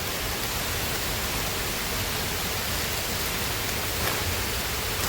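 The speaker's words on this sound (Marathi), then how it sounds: "मस्त आम्ही डोंगरात आलो आणि पाऊस आला" Steady, even rain falls in the hills in the first rain of the season, with a dense hiss and no breaks or other sounds.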